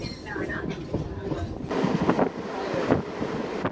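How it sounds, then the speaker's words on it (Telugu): A Hubli–Guntakal MEMU train rolls out of Ginigera Junction, its wheels rumbling and clattering steadily on single track, mixed with heavy wind noise from an open window. "గినిగేర జంక్షన్ నుంచి మన ట్రైన్ బయలుదేరింది."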